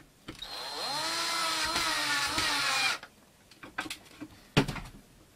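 A power driver runs steadily for about three seconds, driving screws into the base of a sculpture of a six-year-old cowboy, then gives way to scattered handling clicks and knocks nearby.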